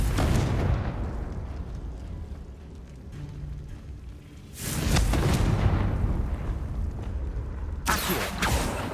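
Confringo explosion spells go off in a Harry Potter video game: loud, booming blasts open the clip, hit again midway and at the end, with a rumbling roar lingering between them.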